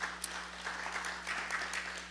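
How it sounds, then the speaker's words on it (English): Scattered audience clapping at a career expo, moderately distant and fairly quiet, with a few sharper individual claps and a low steady hum beneath. "a big round of applause for all the volunteers who have made this event successful"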